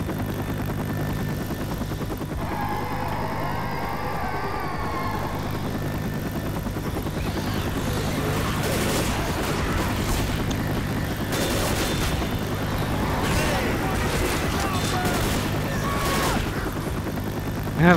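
Helicopter in the zombie shooter Left 4 Dead, a steady rotor drone throughout with bursts of gunfire and game effects layered on top, loud and continuous, no talk.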